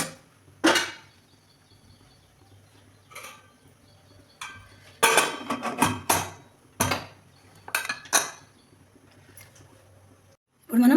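Rice being mixed in a pressure cooker for bagara rice, then the cooker lid set in place, heard as scattered close metallic clanks and scrapes with quiet gaps between them.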